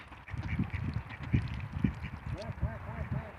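Wild ducks abroad quack in a loose, repeated series close by, their calls rising over steady women's chatter and low background bustle.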